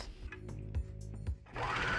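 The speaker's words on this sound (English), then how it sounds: "And keep serging an inch or so." A serger stitches a T-shirt seam in short mechanical bursts, a steady rhythmic whir that pauses briefly between runs and rises to a fuller hum at the end, close and clear with no talking.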